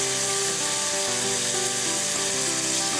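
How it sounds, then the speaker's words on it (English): Pancetta sizzles and caramelizes in a hot pan, a steady close crackling hiss that runs unbroken and fairly loud throughout. "You see that just as the pancetta begins to caramelize like that, we want the onions to go in."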